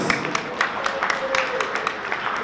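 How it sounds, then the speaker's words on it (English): Audience applause at a Brazilian jiu-jitsu competition, the Men of War 8 event, for both fighters: steady scattered clapping from a crowd at moderate distance, with a faint tone running underneath. "please one more time a round of applause for both of these fighters"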